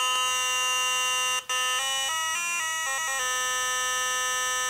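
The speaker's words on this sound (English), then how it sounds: "you press him, and he makes the little noise as you're reading along" A button on a children's sound book plays a loud, shrill electronic tone, sustained and buzzing, that steps through a few different pitches like a short tune. It cuts out briefly once before the melody resumes.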